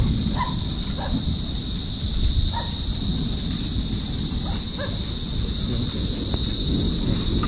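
Crickets chirp steadily through a rainy night outside a house, a constant high buzz under a heavy wash of rain, with a few faint knocks and dull distant sounds scattered through.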